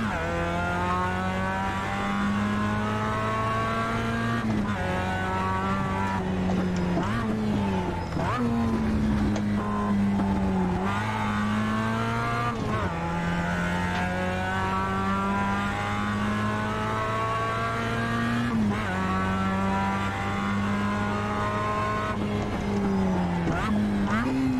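Race car engine in the iRacing sim, driven slowly, holds a loud steady harmonic drone whose pitch rises and dips with gentle throttle changes and gear shifts, continuous and close throughout with no talking.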